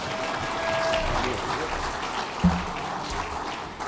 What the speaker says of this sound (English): A round of applause, please, once again.